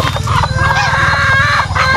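Free-range backyard chickens and turkeys call close by, a dense layer of clucking and crowing-like squawks running steadily throughout, loud and unbroken.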